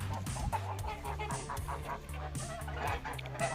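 Young geese on a farm call in repeated short honking clucks, fairly close and moderately loud, with several birds overlapping in an uneven rhythm.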